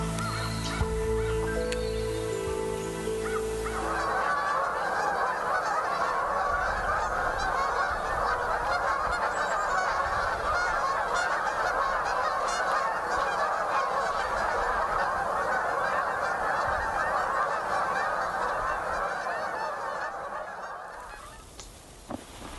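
Loud trumpeting calls of a pair of common cranes ring out continuously for a long stretch, rolling and overlapping at their nesting territory.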